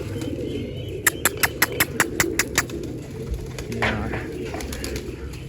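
Pigeons coo softly nearby, and a quick run of about eight sharp, evenly spaced claps or wing flaps rings out over a low background murmur.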